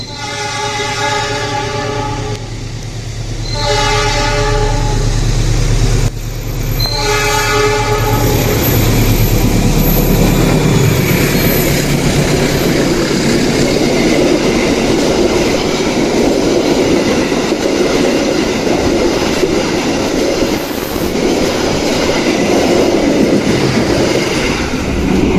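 Turangga passenger train departing, heard loud and close: a sustained, multi-tone horn blast for several seconds, followed by a steady heavy rumble of wheels and carriages rolling past.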